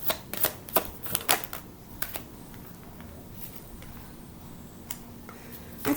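Tarot cards handled and drawn during a reading: a run of crisp shuffling snaps and taps in the opening two seconds, then quieter scattered clicks and a final tap.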